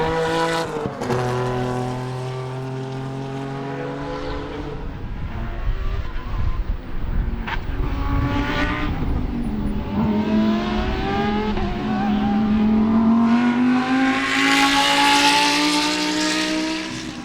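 Sebring GT and Spec Corvette race cars in close racing on track, loud engines rising and falling as cars pass, with revving, gear changes and a building roar toward the end.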